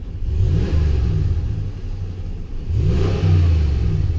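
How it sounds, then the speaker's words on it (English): A 2017 Ram 1500 Laramie pickup's 5.7L Hemi V8 revved twice with the door open, each blip rising in a deep rumbling sweep and settling back to a steady idle, loud and close. "I'll give it a little rev so you can hear it in the engine"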